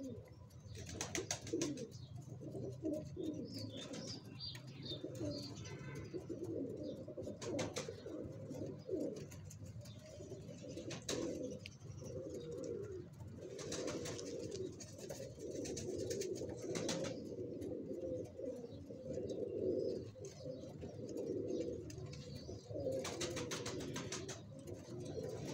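Teddy pigeons, including a male, cooing in repeated soft throaty phrases throughout, with occasional wing flutters and chirps from other birds nearby in a busy loft.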